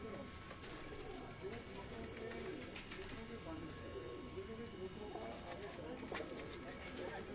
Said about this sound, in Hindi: ये वो चीने कबूतर हैं दोस्तों जिनका मैं आपको शौक करवा रहा हूँ